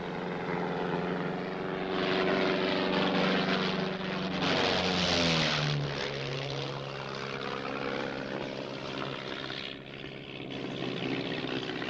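A propeller airplane passes overhead with a loud, sustained engine drone whose pitch slides downward as it goes by, then fades off into the distance.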